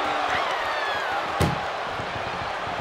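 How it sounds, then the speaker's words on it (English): A single heavy slam of an ambulance door at a wrestling match, one sharp bang midway through a steady roar of arena crowd noise. "Look at the struggle just to shut that first door"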